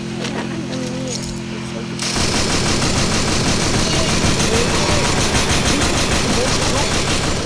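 Video game gunfire with unlimited bullets: after a short, quieter stretch, a dense, nonstop machine-gun barrage starts suddenly and stays loud to the end. A voice seems to talk under the shooting.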